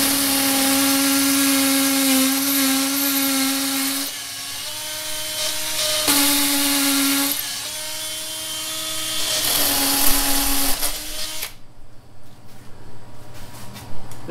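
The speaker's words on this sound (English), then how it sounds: "So we've got to drill into the concrete." Power drill boring holes into concrete while installing an iSpring RCC7P-AK six-stage reverse osmosis system, a loud, close, steady whine in several bursts with short pauses, then stopping and leaving faint clatter.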